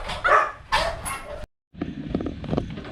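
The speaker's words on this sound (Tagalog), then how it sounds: "Ang ingay kasi ng mga aso." Dogs bark a few times close by, sharp yaps in a short burst, followed by a brief silence and then mixed background noise.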